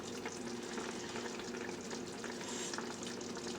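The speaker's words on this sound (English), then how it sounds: "I just want this to come to a slight boil, simmer." Homemade tomato soup at a slight boil in a pot, producing a dense, even bubbling hiss that stays steady and fairly quiet with no speech over it.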